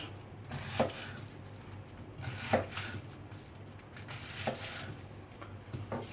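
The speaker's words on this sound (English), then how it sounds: "take out the core, chop it in half, then just chop into strips" A knife chops through cabbage on a cutting board, cutting it into strips for a hot and sweet coleslaw. Four separate chops land at a steady, unhurried pace, each one near and fairly soft, over a low background hum.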